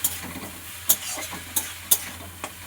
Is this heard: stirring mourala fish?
yes